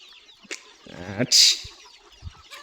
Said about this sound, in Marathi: आता कोंबडे वगैरे बाहेर येतील